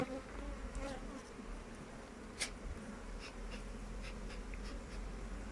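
Honey bees buzz at an opened beehive while frames are being added. A soft, steady hum carries throughout, with one brief click midway and no voices.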